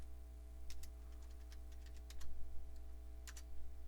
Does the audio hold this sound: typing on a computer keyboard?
yes